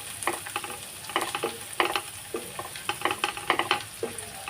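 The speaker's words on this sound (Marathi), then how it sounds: "लसूण जास्त फ्राय नाही करायचं बटरमध्ये हलके आता फ्राय करून घ्यायचे" Garlic frying lightly in butter, with soft, steady sizzling broken by repeated stirring scrapes and clatters at an uneven rhythm, close up with no voices.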